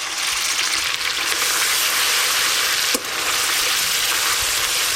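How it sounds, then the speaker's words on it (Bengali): Onion paste frying in mustard oil for fish kalia, a loud, continuous close-up sizzle and hiss with no voices. "পেঁয়াজ বাটাটা একটু লাল লাল করে ভেজে নেব"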